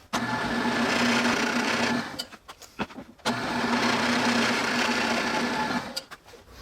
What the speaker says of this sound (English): give each side of that 1/4 inch hole a nice healthy countersink